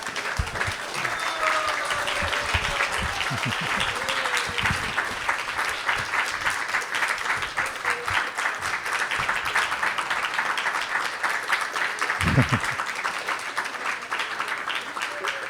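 Sustained applause from a large crowd at a Radhashtami religious gathering, steady dense clapping filling the whole stretch, with a brief louder burst near the end.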